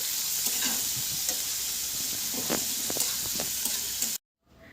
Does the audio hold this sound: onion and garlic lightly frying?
yes